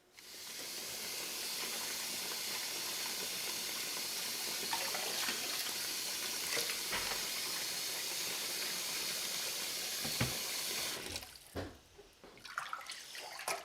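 Tap water pours steadily into a sink being filled with a bleach solution for cleaning Sawyer Mini water filter parts, a broad continuous rush that cuts off near the end, leaving a few faint clinks and drips.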